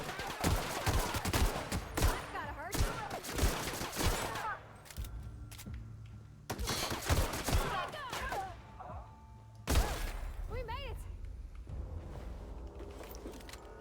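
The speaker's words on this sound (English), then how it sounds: "Alright, assault rifle." Assault rifle gunfire in The Outer Worlds video game: loud repeated bursts and single shots crackling across the clip, with rumbling echoes and brief pauses between volleys, alone without voices.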